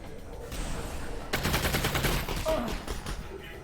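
Rapid bursts of gunfire from a weapon in the Half-Life: Alyx VR game, loud and dense, with repeated shots running together over most of the moment.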